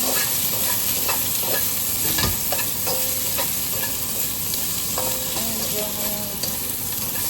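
Pieces of pork sizzle loudly in a pan over medium heat while browning for a Chinese-style braise. The frying hiss is continuous and close, with a few light utensil clicks and no talk.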